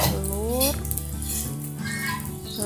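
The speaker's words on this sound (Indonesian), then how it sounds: "udah bunda panasin minyaknya, terus kita mau menggoreng atau mengorak-arik si telurnya. Ini bunda tuang telur" Egg poured into hot cooking oil in a pan, sizzling and frying steadily up close, while someone talks over the crackle.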